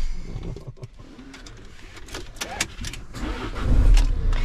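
A van's engine runs while the vehicle is driven along a road, a steady low rumble with faint mechanical and outdoor sounds and a louder surge near the end.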